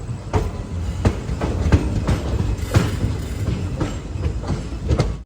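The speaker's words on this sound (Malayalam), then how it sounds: "തിരുവനന്തപുരത്ത് നിന്നും 220 കിലോമീറ്റർ യാത്ര ചെയ്ത് ട്രെയിൻ ഇതാ എറണാകുളത്ത് എത്തിയിരിക്കുകയാണ്." The Vanchinad Express rolls into Ernakulam Junction with loud rhythmic clickety-clack wheel beats and steady rumbling, heard close from on board.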